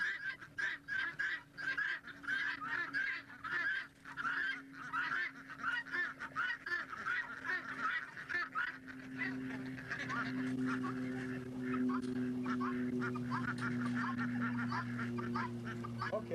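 A flock of guinea hens keeps up a loud, harsh, rapid chattering of repeated calls, nearby and continuous, with a steady hum joining in later.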